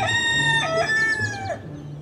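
A red junglefowl rooster crows loudly and close by, giving one full drawn-out cock-a-doodle-doo with a falling tail, alone against faint background noise.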